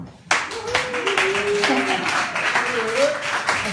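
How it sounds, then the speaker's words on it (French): Audience clapping at a tattoo art show with a live band, sudden onset of lively applause and claps continuing under a speaking voice. "applaudissez"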